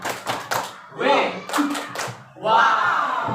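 Audience performing the rhythmic 'tepuk wow' clap routine at an Indonesian school event, short bursts of synchronized claps alternating with group shouts of voices.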